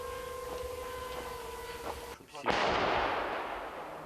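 A steady tonal hum with faint voices gives way to one sudden heavy boom of an artillery gun firing near Pokrovsk, followed by a long broadband roar fading slowly.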